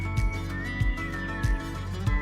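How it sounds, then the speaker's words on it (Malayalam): A pressure cooker cooking lentils (dal) whistles with a steady high-pitched tone that wavers slightly, accompanied by a low, rhythmic chuffing that pulses every half second or so throughout. "പരിപ്പ് വിസിൽ വന്നു,"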